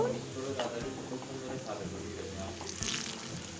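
Onions fry in hot oil, browned deep red for a katla fish kalia. A continuous sizzle runs under scraping stirs and occasional pan clatter, with a faint voice in the background.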